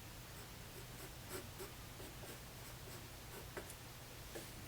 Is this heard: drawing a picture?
yes